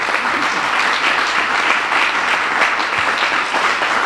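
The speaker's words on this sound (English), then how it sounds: "they deserve a round of applause and our respect" Steady, dense applause from an indoor audience honoring the 2019 Westchester County Eco Award winning municipalities, loud and continuous throughout with no speech over it.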